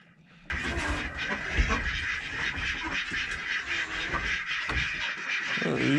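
Ducks quack in a lively, continuous burst of calls close by, outdoors, with no talk over them.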